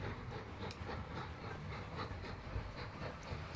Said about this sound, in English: Hey, there's another train.